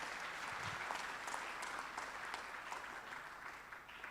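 Church congregation clapping together in steady, continuous applause, a soft, fairly distant wash of many hands lasting several seconds.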